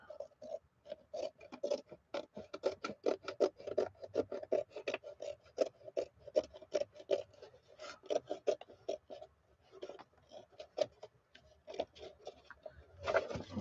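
Fabric being trimmed off a lapbook makes close, quiet, rapid scratchy snipping and rasping strokes in an uneven rhythm.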